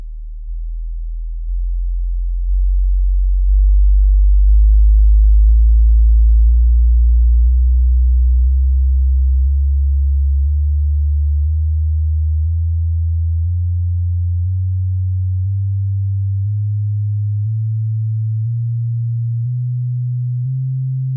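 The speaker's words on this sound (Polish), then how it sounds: "a słyszymy sygnał sinusoidalny" A pure, steady electronic tone hums alone, gliding slowly and smoothly upward in pitch, loud and clean without any noise.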